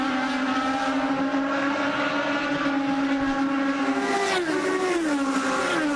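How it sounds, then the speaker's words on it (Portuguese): IndyCar race cars at the 2010 Watkins Glen Grand Prix scream past at full throttle, a loud continuous engine whine rising and shifting in pitch as the cars accelerate. "acelerando nessa hora da verdade do Grande Prêmio de Watkins Glen"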